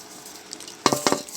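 Panch phoron spices stirred into a raw mango pickle in a pan: quiet at first, then a few brief, close scraping and clinking strokes of a spoon near the end.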